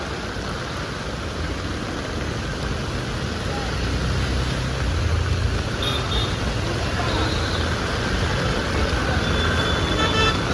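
Vehicles driving through heavy monsoon rain at Kurla, Mumbai, near the Kamani signal: a continuous rain hiss over close traffic rumble, with a horn toot and vehicles swelling louder as they pass.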